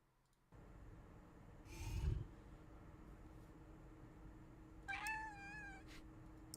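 A cat meows twice in a quiet indoor room, one short muffled call followed by a clearer, higher meow, both close and faint over a low steady hiss.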